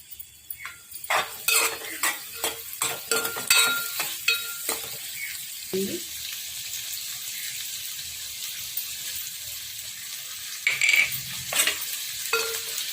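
Green chilli pieces and onions frying for a chicken fry, with a quiet sizzle beneath a quick run of spatula taps and clinks against the pan, followed by a calmer stretch and a few more scrapes near the end.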